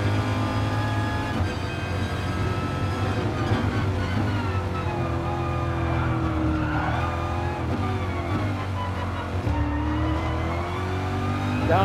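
A Gr3 race car in GT Sport on the Sardegna road track screams at high revs, then drops through downshifts with sharp rises and falls in engine pitch. The steady, loud engine note continues without talk.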